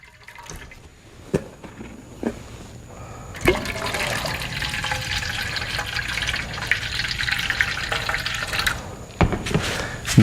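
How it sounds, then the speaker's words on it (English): Water is poured into a container sealed with Flex Seal, sitting outdoors in Florida heat. After a few faint knocks, a loud sustained pouring and splashing fills the middle of the clip, then cuts off near the end. "So pouring the water in."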